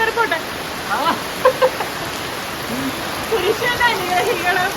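Rain falls in a steady, even wash of sound while a voice talks over it intermittently.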